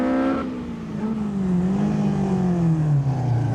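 A 2000cc Vauxhall-engined Crosley race car climbs a hill course, its engine droning loudly and steadily with a pitch that wavers and slowly falls as the car pulls away.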